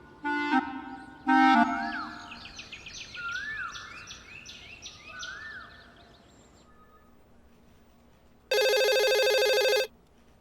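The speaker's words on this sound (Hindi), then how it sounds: "परेशान करके रख दिया आज फोन ने।" Telephone ringing at a women's police station desk in Lucknow: two short electronic ring bursts near the start, then a long loud ringtone near the end, with faint chirpy tones in between.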